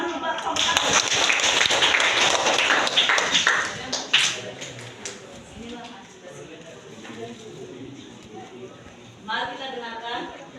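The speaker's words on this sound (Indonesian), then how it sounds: "Beri tepuk tangan buat kelompok 1." Students in a junior high school classroom clap for a group coming forward to present, a brisk burst of applause for several seconds that fades into voices talking.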